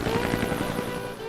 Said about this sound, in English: Did you order a helicopter?